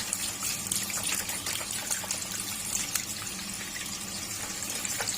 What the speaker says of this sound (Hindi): अब गोश्त को अच्छे से वॉश कर लेंगे पानी के साथ।